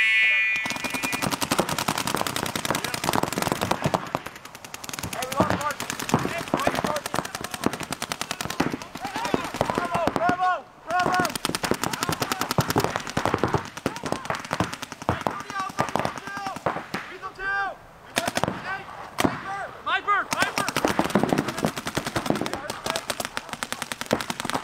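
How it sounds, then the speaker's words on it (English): Paintball guns fire on a tournament field during drills, with dense, rapid bursts of sharp pops in close succession and only brief pauses between them. "we'll go ahead and start cranking up some points"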